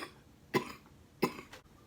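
Two sharp, harsh coughs from one person, close and loud, spaced about a second apart with a quieter catch of breath after the second, in an otherwise quiet room.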